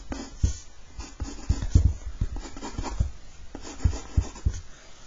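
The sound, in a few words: pen drawing a sketch of a cube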